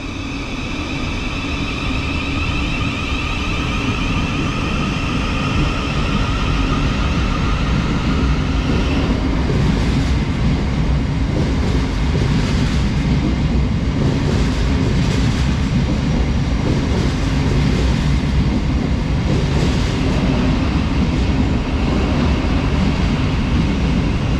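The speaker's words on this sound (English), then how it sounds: "off goes the 1207 Thameslink service to Horsham" A Thameslink service bound for Horsham pulls out of a West Sussex station, a loud continuous rumble with rising motor whine and rattling wheels that holds steady throughout.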